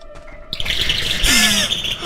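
A bird squawks in a video game, a single harsh, close squawk with a descending call after a brief quieter lead-in.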